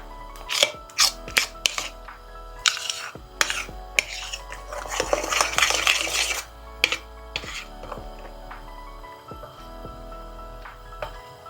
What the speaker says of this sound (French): Je vais mettre un peu d'huile sur ma poêle. Il faut pas beaucoup d'huile hein, pour les pancakes.